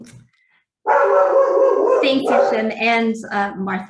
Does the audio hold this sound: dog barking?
yes